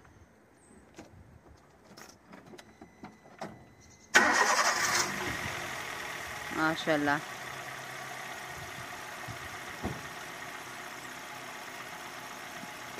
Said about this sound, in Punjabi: ਮੈਂ ਸਟਾਰਟ ਕਰਨਾ ਗੱਡੀ ਕਿਸ ਤਰ੍ਹਾਂ ਇੰਜਨ ਦਾ ਸਾਊਂਡ ਕਿਸ ਤਰ੍ਹਾਂ